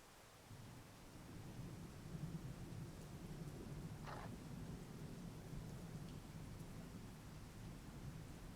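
Steady rain hisses down over a wooded setting while low thunder rumbles continuously beneath it, a faint, enveloping storm ambience with no voices.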